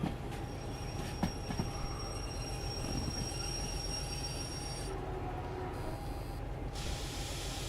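Locomotive rolling along the rails in the train simulator game Derail Valley: a steady, continuous rumble of wheels and rail noise with a thin metallic squeal running over it, moderately loud throughout, no voices.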